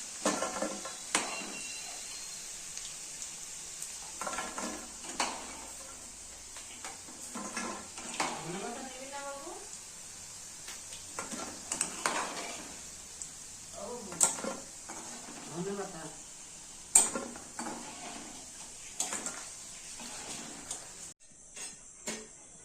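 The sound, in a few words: food frying and being stirred in a pan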